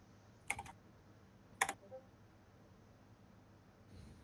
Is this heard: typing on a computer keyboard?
yes